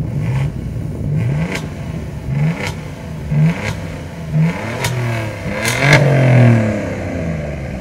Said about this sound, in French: Je vous propose qu'on écoute le chant du V6 turbo